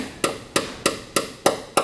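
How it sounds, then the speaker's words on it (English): A hammer taps a bolt extractor into a broken bolt sunk in a deep, recessed hole, six sharp metallic strikes at an even, steady pace, close and loud, with no voices. "I will gently, carefully try to seat it there, to tap it with the hammer in a nice straight manner."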